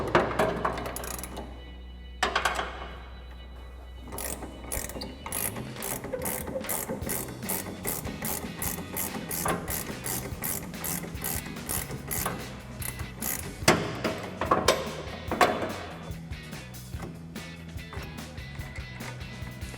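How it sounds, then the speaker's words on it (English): An 18mm ratcheting wrench clicks steadily while backing off the top mount nut of a rear shock on a 2019-2024 RAM 1500 during a lift kit install, with a rapid, close, evenly spaced ratchet rhythm and occasional louder metal knocks. "We have our 18mm ratcheting wrench and a 9mm wrench to hold the top. We're just gonna take that off."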